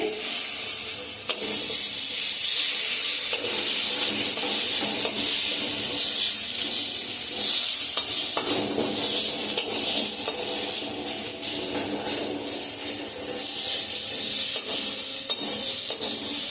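Loud, steady sizzling of a mung dal snack frying in a hot pan, with scraping and stirring noises throughout.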